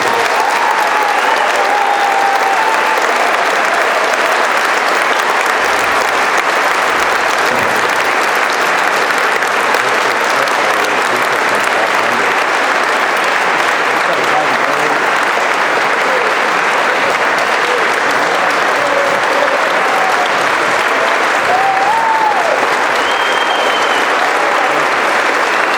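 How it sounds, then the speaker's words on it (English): A large crowd at a Tucson Tea Party evening event applauds the organizers, with long, loud, unbroken clapping that holds steady for around twenty-five seconds, joined by scattered cheers and a few whistles. "the Tucson Tea Party, Trent and Jennifer and everybody involved deserve a huge round of applause for putting this together tonight"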